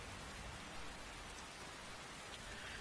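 Steady rain falling in the open country of the video game Skyrim, a dense, even hiss of drops on surfaces that holds at the same level throughout with no voices.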